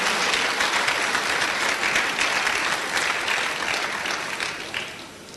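Steady applause from an audience at a first-anniversary and 76th birthday celebration for a high chief, dense continuous clapping that holds strong, then begins tapering in the last second.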